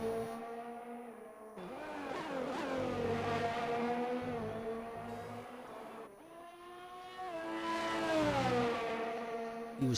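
A Ferrari Formula 1 car in the F1 2020 video game at Spa, its high-pitched engine screaming through upshifts with rising pitch sweeps, easing for a corner, then winding up hard again.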